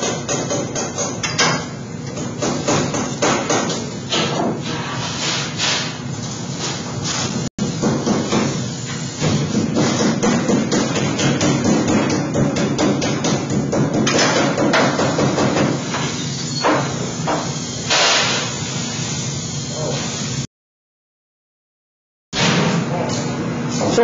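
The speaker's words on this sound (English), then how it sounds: "So you always want to use a rubber mallet if we're forming something onto a brake." Rubber mallet blows forming sheet metal onto a brake in a shop, with repeated dull thuds at an irregular pace over steady background noise and a brief silent gap near the end.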